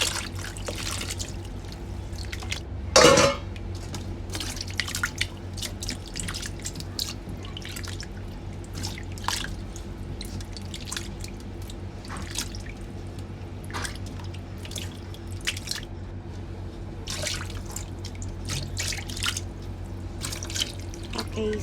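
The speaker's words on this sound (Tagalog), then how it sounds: "kailangan natin hugasan yung dilis ng mga 2 beses" Anchovies are washed in water for homemade fish bagoong, with steady dripping and trickling plus scattered splashes and small clinks over a long stretch, close by and alone without talk.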